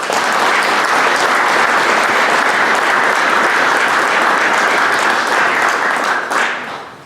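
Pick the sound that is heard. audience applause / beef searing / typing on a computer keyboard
audience applause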